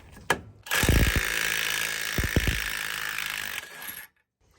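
Clicking ratchet wrench working an 18 mm nut off a truck tie rod during a six-inch lift install, with a steady mechanical whir throughout and several sharp ratchet bursts in a busy garage.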